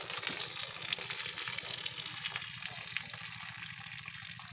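Calm, shallow sea water on a Samar or Leyte shoreline, a soft steady wash and gentle splashing, heard up close and alone, with no voices over it.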